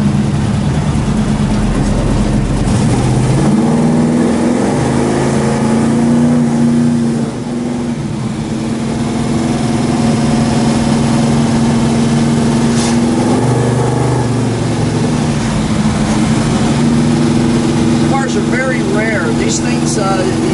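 A 1969 Dodge Super Bee cruising down the road: a loud, low engine drone sits close and steady throughout, shifting pitch as it changes speed, with someone talking over it.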